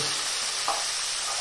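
Tomato goes into a pan of frying onions for a chicken roast: a steady soft sizzle with a single brief stir or scrape, with no voices.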